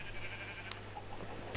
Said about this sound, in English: I'm killing sheep.